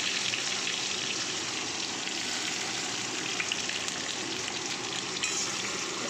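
Onion and green chilli fry in hot oil with a continuous, close, fairly loud sizzling hiss that holds steady the whole time, with no voices.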